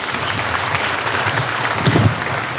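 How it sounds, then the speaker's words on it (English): An audience claps steadily at a primary school graduation ceremony, with dense, even applause filling the room throughout. "You didn't do bad with the clapping at all."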